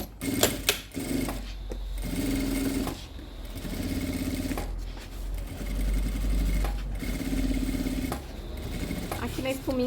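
A sewing machine stitches a padded foam notebook case in several runs of steady whirring and needle chatter, stopping and starting between bursts, with someone speaking over parts of it.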